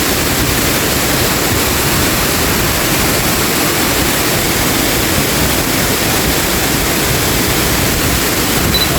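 A waterfall roars in a continuous, loud, dense rush with no break, filling the whole stretch evenly and close by.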